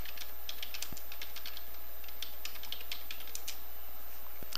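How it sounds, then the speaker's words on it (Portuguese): Close, quick keystrokes clatter on a computer keyboard in a steady, uneven run of light taps over a constant background hum, with no talk. "Posso digitar aqui."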